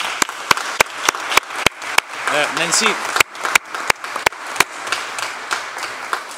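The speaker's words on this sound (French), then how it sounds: "je vous invite à l'applaudir" Scattered, sparse claps at a public city council session, about a dozen distinct sharp hand claps spaced out over several seconds, with someone speaking briefly in the middle and room murmur around them.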